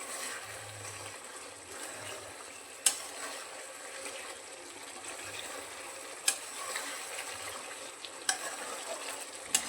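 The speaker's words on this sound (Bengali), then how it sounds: "এরপর এর মধ্যে দিয়ে দেব ধনেপাতা আর কাঁচা লঙ্কার পেস্টটা।" Chicken cooking in a pan after coriander leaves and green chilli paste are added, giving a steady soft sizzle with a few sharp clinks of a utensil against the pan.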